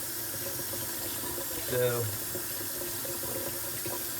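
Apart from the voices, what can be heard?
hot water running from a tap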